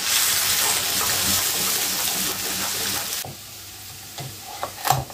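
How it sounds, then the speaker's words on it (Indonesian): Lemongrass, ginger, galangal and bay leaves sautéing in a pan for chicken soto, a steady close sizzle and crackle that drops quieter midway, with a few clinks of stirring near the end. "Kita tumis."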